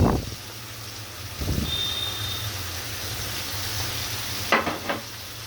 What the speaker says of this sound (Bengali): এখন আমি দিব রসুন আর পেঁয়াজ বাটা। এখানে বাটা পেঁয়াজ, বাটা রসুন